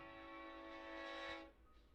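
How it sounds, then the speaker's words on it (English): A train horn sounds from outside, a sustained harmonic blare heard at a moderate distance that holds steady, swells slightly, then cuts off after about a second and a half. "audience enjoy the creepy train"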